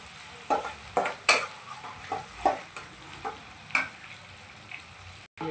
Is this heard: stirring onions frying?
yes